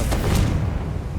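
A Confringo spell explodes in Hogwarts Legacy: a loud, deep, rumbling boom that fills the short moment with heavy low-end weight and no voices over it.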